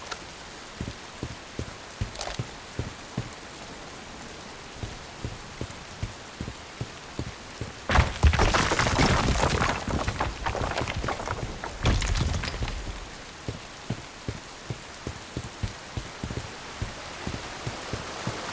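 Rain falls steadily in the video game Bright Memory: Infinite, with scattered drops ticking on nearby surfaces. A heavier burst of rushing noise rises around the middle, then the quieter patter returns. Nobody speaks.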